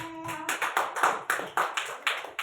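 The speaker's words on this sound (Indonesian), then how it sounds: "Tepuk tangan untuk Amel." A classroom of students claps for a classmate after an answer in a science lesson: a short burst of sharp, fairly close hand claps in an uneven rhythm, with a few voices at the start.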